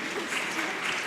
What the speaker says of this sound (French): Vous faites bien d'applaudir